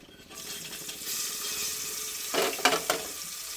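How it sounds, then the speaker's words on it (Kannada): Chopped onions go into a hot pan of oil for a fenugreek-leaf chicken chops dish, a steady close sizzle swelling into louder crackling bursts as they land and fry, with no voices. "ನೋಡಿ ಈರುಳ್ಳಿ ಹಾಕ್ತಾಯಿದ್ದೀನಿ ಈಗ."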